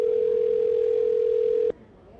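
A single steady telephone tone rings out continuously while a call is placed to a property seller, then cuts off abruptly, leaving quiet line noise.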